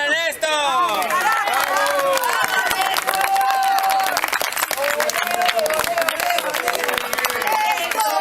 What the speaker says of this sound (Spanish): Un aplauso para Néstor.